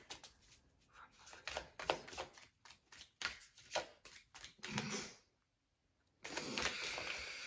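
Tarot cards being shuffled by hand in a quick run of crisp riffling bursts, a brief silent pause, then a final sustained shuffle, close and fairly quiet.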